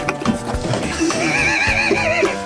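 A horse whinnies with a rising and falling neigh over a busy background, with faint hoof clopping mixed in, fairly close and steady in loudness.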